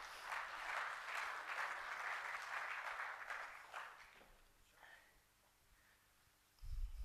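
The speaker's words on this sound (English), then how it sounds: "So if you'd like to give them all a round of applause," Quiet applause from a conference audience welcoming panel speakers onto a stage, steady for about four seconds, then dying away into near silence before a sudden thump and a voice.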